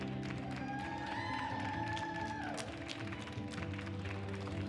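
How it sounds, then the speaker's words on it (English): Steady crowd applause at a world classic powerlifting championship fills the space, a dense continuous patter of many hands with music or tones sustained underneath. "Round of applause, please, ladies and gentlemen"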